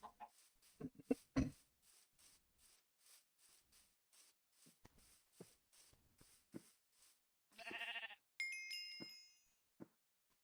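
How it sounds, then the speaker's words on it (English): A Minecraft sheep bleats among quiet in-game footsteps: soft regular steps patter throughout, with a short wavering bleat near the end followed by a brighter chirping call, all faint and close. "There are so many sheep over there."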